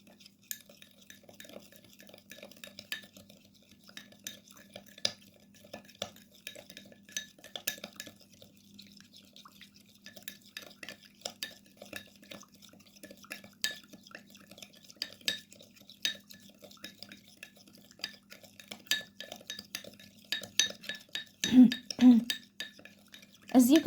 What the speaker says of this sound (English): now we need to mix well all the ingredients until the salt dissolves completely